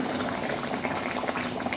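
Cumin seeds hit a hot kadai and sizzle in a dense, even crackle, close and continuous for the whole moment with no talking.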